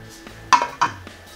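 A knife cuts bacon on a cutting board, giving two sharp, close chopping knocks against the board with a faint tap between them.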